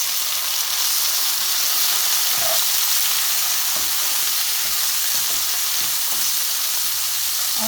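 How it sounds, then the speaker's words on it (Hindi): Garlic ginger paste sizzles with browned onions in a hot pan for a chicken spinach curry, a steady loud frying hiss with occasional stirring clinks, close up and without talk. "अब इसमें मैं डाल रही हूँ 2 चमचे लहसुन अदरक का पेस्ट।"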